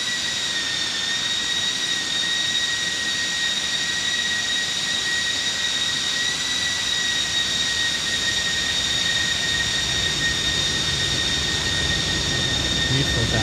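Jet engines of a Felis Boeing 747-200 Freighter in X-Plane 12 roar steadily at cruise, a loud continuous drone with a sustained high-pitched whine that stays constant throughout.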